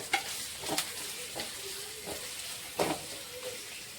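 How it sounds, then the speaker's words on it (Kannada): Onion, green chili and curry leaves frying in oil, a soft sizzle beneath a few distinct clattering stirs and scrapes of a spoon in the pan. "ಈರುಳ್ಳಿ ಹಸಿ ಮೆಣಸಿನ್ಕಾಯಿ ಕರ್ಬಾ ಸೊಪ್ಪು ಒಂದು ಸ್ವಲ್ಪ ಹಾಕ್ಕೊಂಡು ಫ್ರೈ ಮಾಡೋದ್ರಿ"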